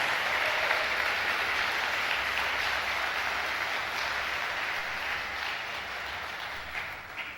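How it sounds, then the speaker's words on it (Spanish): A church congregation claps in sustained, even applause during a Spanish-language service, a dense wash of hands that fades slightly toward the end. "Dele su mejor aplauso al Señor"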